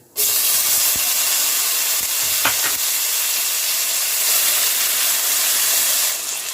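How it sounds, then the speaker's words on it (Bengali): A medium-size chopped tomato hits tempered spices in a hot pan, setting off a loud, steady sizzle with steamy hiss that holds evenly, broken by a couple of faint utensil clicks. "টমেটোটাকে ভেজে নেব"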